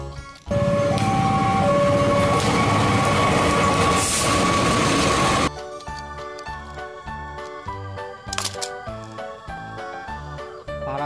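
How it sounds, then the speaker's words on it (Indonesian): A synthesized train in a video game, Jurassic World Evolution 2, chugs with rhythmic clatter after a burst of hissing steam, with a game-like musical tone running through it. "Kereta api."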